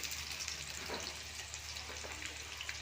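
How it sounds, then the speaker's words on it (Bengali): Potatoes fry in hot oil in a wok, a steady, airy sizzle and crackle holding even throughout at moderate loudness, with faint occasional scraping and no speech. "এবার তেলের মধ্যে আলুগুলো ভেজে নিচ্ছি"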